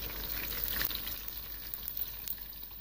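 Washed long-grain rice is stirred into a pot of hot oil, giving a soft, low sizzle with scattered scraping and clicking from the stirring. No one speaks.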